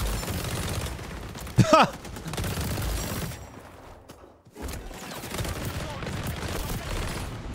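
Rapid bursts of Vector submachine gun fire in the shooter game XDefiant crackle in dense volleys, one sharp loud spike early, with a brief lull midway and voices talking over the action.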